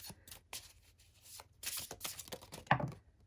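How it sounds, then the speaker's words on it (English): A deck of tarot cards shuffled by hand: a quick string of soft, papery riffles and slaps, close and fairly quiet, ending in a sharper snap. "So let's just give you one more shuffle for one more card."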